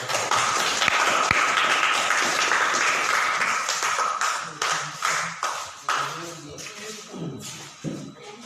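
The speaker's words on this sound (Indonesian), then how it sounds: "Tepuk tangan untuk kelompok 3." Classroom applause for a student group after their presentation: dense clapping from the room at first, then thinning over the last few seconds into scattered, separate claps.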